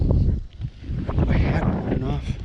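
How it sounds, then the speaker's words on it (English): Strong wind buffets a microphone outdoors at a horse-training session, a loud, continuous low rumble and roar with gusty swells and no clear speech. "It's really windy right here."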